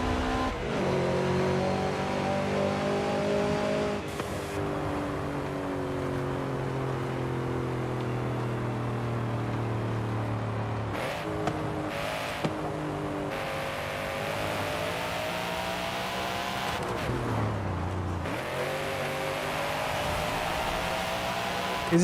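Ford Mustang GT350R with its 5.2 liter Voodoo V8 in Forza Horizon 5, the engine droning and revving through rising and falling pitch sweeps, with sharp shifts between gears, loud and steady for the whole stretch.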